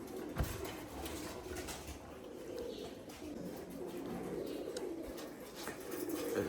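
Rajshahi Giribaz pigeons flying and tumbling in a loose flock, heard as steady soft cooing and faint bird calls under an ambient hum, with one brief sharp knock early on.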